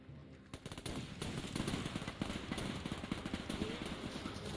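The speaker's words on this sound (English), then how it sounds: "Mortar fire." Mortar fire rattles in the Men of War 2 World War II strategy game, a dense stretch of rapid distant bursts and thuds building after a quiet start and holding steady.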